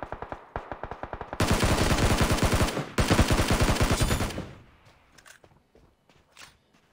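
Sustained bursts of rapid automatic gunfire in the mobile game PUBG Mobile, loud and close, with footsteps before and after the shooting and scattered single shots trailing off.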